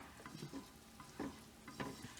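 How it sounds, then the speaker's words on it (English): Butter sizzles faintly in a frying pan while it heats for eggs, soft crackling spits and a few light scraping stirs over about two seconds, quiet and close with no voices. "It's sizzling very well."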